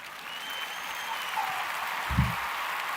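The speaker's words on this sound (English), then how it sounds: "That's the white people clap." Audience clapping at a late-night comedy showcase: a thin, steady patter of applause from the crowd, moderately faint, with a brief louder thump partway through.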